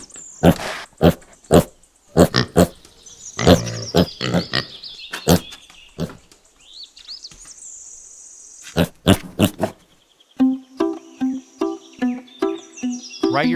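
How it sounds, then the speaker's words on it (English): A piglet oinks and grunts in a rapid series of short, loud, close bursts, with a few higher squeals, heard on its own. "Piglet."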